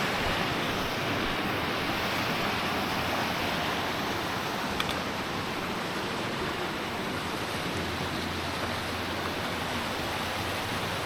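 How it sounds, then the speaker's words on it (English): Creek running through Banff backcountry, a steady, moderate wash of flowing water heard from a short distance, continuous and even, with a light breath of wind over it. "Pretty creek running through here."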